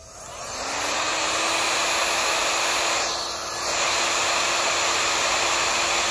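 A hot air tool blows steadily on 3D printed leaves to soften and fold them, a loud continuous whooshing hiss that ramps up at the start and dips briefly midway.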